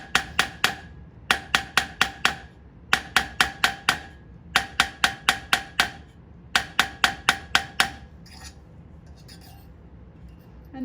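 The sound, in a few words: hammering to stretch metal tubing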